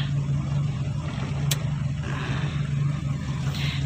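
A carburetor car engine idles steadily at about 500 RPM with a low, even hum, close and constant throughout, with one brief sharp tick partway through.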